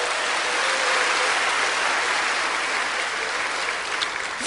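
Sustained applause from a church congregation during a Korean pastor's sermon on education, a dense, steady clapping wash filling the room at close range without a break for several seconds, with no talk over it.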